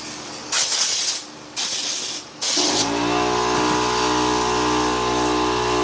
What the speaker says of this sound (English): Let that air compressor go off.